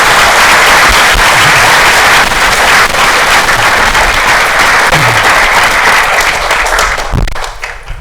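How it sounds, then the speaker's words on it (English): An audience applauds architect Ma Yansong, loud and dense clapping from a large crowd that holds steady, then thins out and fades at the end. "let's have a big round of applause and to Yansong"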